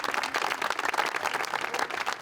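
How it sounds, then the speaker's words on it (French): Applause from a crowd at a charity event fills the space with dense, continuous clapping at an even, lively level and no voices above it. "Des applaudissements"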